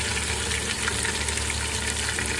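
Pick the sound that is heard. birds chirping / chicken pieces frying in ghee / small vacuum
chicken pieces frying in ghee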